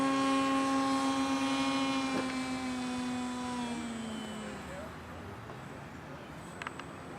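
An Esprit Opale RC paramotor comes in to land. Its electric motor whines loudly at first, then its pitch drops steadily as it throttles back and fades to quiet, with faint clicks near the end.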